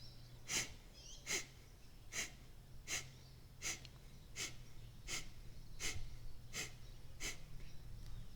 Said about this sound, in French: on inspire profondément par le nez, on fait gonfler l'abdomen et on expire fortement par le nez